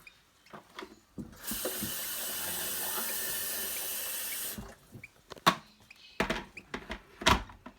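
Hot water pouring into a dish while preparing formula for hand-fed lovebird chicks, a steady close hiss lasting about three seconds, followed by clinks and handling knocks.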